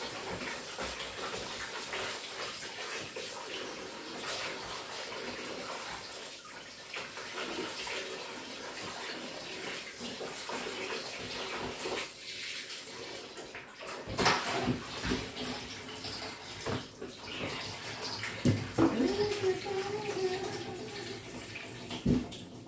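Tap water runs steadily while oxtail is washed in a kitchen, a continuous close wash of flowing water with splashes and handling noises.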